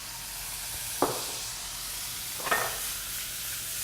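Oysters sautéing in a hot pan give a low, steady sizzle, broken by two brief louder hissing bursts as the pan is stirred or shifted, heard up close with no talking.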